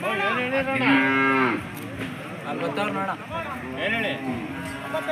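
Cattle moo loudly and repeatedly at a historic cattle fair near Tumakuru, with long drawn-out calls overlapping amid a busy livestock market crowd and background chatter.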